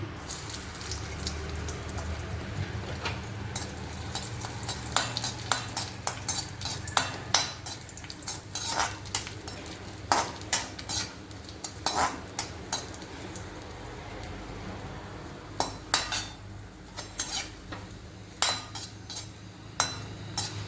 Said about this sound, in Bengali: কিশমিশটা হয়ে গেল ভাজা